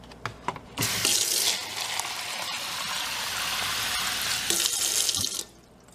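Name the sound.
pouring water off fermenting cucumber seeds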